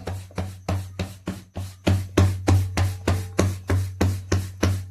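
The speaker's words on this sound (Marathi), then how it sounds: "खूप आवाज येतोय ना माझ्या भाकरीचा थापताना." Bhakri flatbread dough patted by hand, a steady run of about a dozen close, firm slaps in a quick, even rhythm, each with a soft flat thud.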